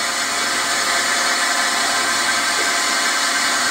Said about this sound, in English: I'm turning off the spindle.